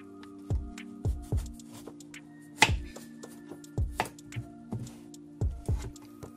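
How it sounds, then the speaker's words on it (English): A knife cuts through an eggplant on a board, giving a series of crisp knocks that come at an irregular, unhurried pace, with a steady low hum in the background. "we are going to cut the eggplant in two equal parts"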